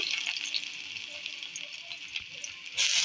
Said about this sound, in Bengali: রসুন দিয়ে দিলাম